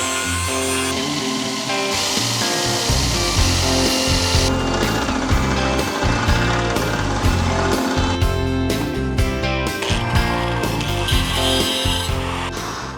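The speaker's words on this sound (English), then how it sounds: "I think we've ground off the whole flange of the insert." A power grinder works continuously on the flange of a stuck threaded frame insert in a Jeep TJ skid plate mount, loud and close, with a steady harsh whine and uneven scraping bursts as it bites into the metal.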